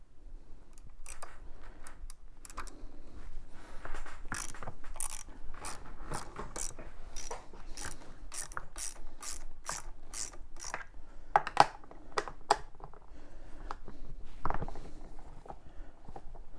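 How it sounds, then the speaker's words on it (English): A ratchet backs out the bolts holding the plastic cover on a Mercury 150 Pro XS outboard engine. Rapid pawl clicks come in bursts, close and fairly loud, with brief pauses between runs and no talk. "So there's 3 bolts that hold this plastic cover on. The belt is up here. So we got to take those bolts out."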